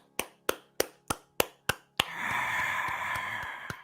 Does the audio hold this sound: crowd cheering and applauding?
yes